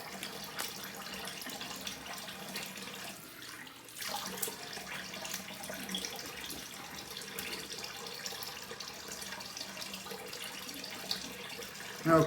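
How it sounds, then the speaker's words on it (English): Cold water runs from a bathroom tap for a rinse during a wet shave with a safety razor, a soft, steady splashing hiss that continues for several seconds with a brief dip midway. "Okay, cold water rinse."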